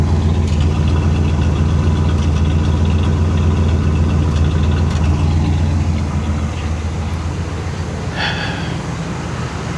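A 1979 Cadillac DeVille idling with its choke opening, a loud, close, even low-pitched throb with a faint ticking rhythm, heard alone for several seconds with a brief higher-pitched hiss near the end.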